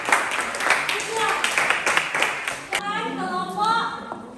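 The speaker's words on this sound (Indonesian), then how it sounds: "berikan tepuk tangan untuk kelompok" Students in a classroom clap for a group, scattered uneven hand claps at moderate level mixed with voices, thinning out as talk takes over.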